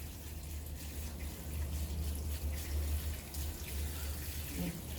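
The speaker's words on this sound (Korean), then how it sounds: "아래서 밑에서 이렇게 물을 줍니다" Water pours gently from a watering can onto budding potted plants at soil level, making a faint, continuous trickle and splash that holds steady throughout.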